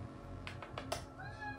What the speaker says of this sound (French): si vous entendez miaou, c'est normal